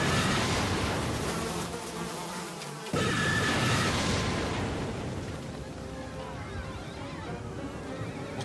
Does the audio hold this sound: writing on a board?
no